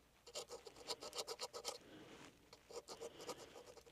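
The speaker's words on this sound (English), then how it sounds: "take a really small flathead screwdriver and we're going to ever so carefully try to remove" A small flathead screwdriver scrapes corrosion off copper traces in a Geo Prizm gauge cluster, a quiet series of short, rhythmic rasping strokes at close range, pausing briefly midway before resuming.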